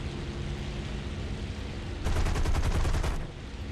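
An airplane engine drones steadily in War Thunder. About a second of rapid machine-gun fire bursts loudly over it with a tight rattling rhythm, then the engine hum continues alone.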